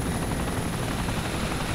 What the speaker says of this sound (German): Guck mal, Helikopter.